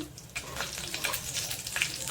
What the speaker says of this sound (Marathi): जिरं टाकते मी एक चमचा